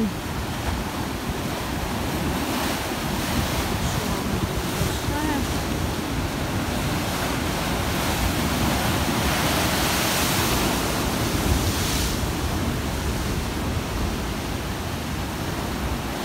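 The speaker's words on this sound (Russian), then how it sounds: "Давно я такого штурма не видела. Мне кажется, за лето первый раз такой шторм" Heavy Black Sea storm waves at Alupka, Crimea crash and roar continuously, a dense wash of surf mixed with wind, loud and close, with surges around the middle.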